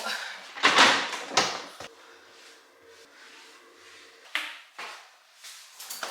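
A fridge vegetable drawer pulled out, with plastic scraping and sliding bursts, a few knocks and rattles, then quieter handling noises in a kitchen, close and fairly loud.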